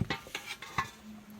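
A pot and utensils clatter during the draining of boiled jackfruit in a home kitchen, a few short clinks and knocks in quick succession, close by with no talk.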